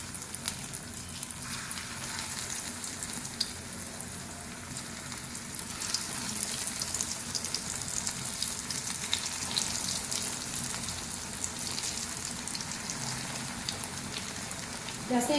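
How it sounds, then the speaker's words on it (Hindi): Vegetable kebabs frying in hot oil, one added after another, give a loud, steady, crackling sizzle that fills the whole stretch without letting up. "ऑयल हमारा गर्म हो चुका है, एक एक करके कबाब शामिल करते जाएंगे"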